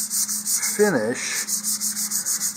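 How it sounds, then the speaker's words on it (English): A plastic nose cone on an Estes Vapor model rocket is lightly sanded by hand, soft rhythmic rasping strokes repeating close up, with a brief spoken word partway through. "I'm just going to give this light sanding all the way around."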